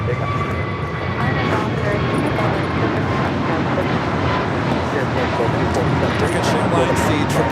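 An Airbus A320 jetliner of Taca touches down on the south side at LAX, its engines producing a steady, loud broadband roar with a faint whine, accompanied by wind noise.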